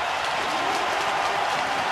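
NHL arena crowd reacting to Zdeno Chara's record hardest shot: a loud, sustained wash of roaring and applause that fills the whole moment without a break.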